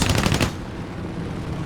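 A World War II Vought F4U Corsair fighter fires a short, rapid burst from its machine guns in War Thunder, loud and staccato for about half a second, then a low engine drone carries on alone.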